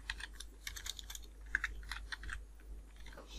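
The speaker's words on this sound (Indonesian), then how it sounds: "ketika kita mengetik nama di sini, misalnya Agung," Typing a name into an Excel spreadsheet on a computer keyboard: a quick run of close, crisp key clicks with irregular rhythm over a low steady hum, no talking.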